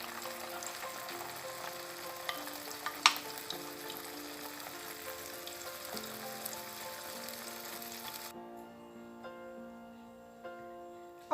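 Salted mackerel simmering in coconut custard for a Jamaican rundown, a steady soft sizzle and bubbling throughout, fairly close, with a brief clink partway and the sound thinning near the end.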